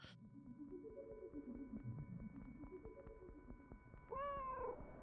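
A cartoonish cat meows repeatedly in a video game with an elf girl and her cat, soft mewing calls over a quiet musical hum, ending in a louder, brighter meow.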